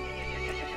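A horse neighs and whinnies with hoof clip-clop in Resident Evil Village, a short, fairly quiet burst with a tonal, wavering whinny over a layered game soundscape.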